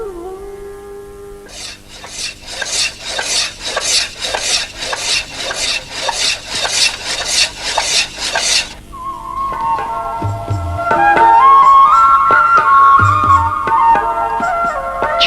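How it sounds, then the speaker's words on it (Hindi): The surface of a metal thali plate is scraped by hand in a workshop, giving about a dozen steady, rhythmic rasping strokes. After the scraping stops, music takes over. "सीधी हुई थाली का अगला पड़ाव होता है वह घर जहां उसकी सतह की छिलाई होती है"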